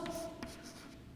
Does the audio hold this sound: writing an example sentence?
yes